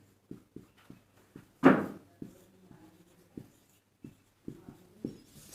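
Chalk or a marker taps and strokes across a board as an equation is written out, giving soft, irregular clicks and short scratches close by with a louder scrape partway through, and no talking.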